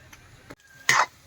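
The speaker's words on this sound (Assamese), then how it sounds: "এই গাহৰি মই ভাজি কৰি আছো" Local village pork frying in a pan for a dry fry: a brief, sharp sizzle flares up after a few faint scrapes and clinks, then quickly fades.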